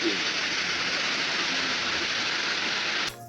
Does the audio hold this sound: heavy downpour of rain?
yes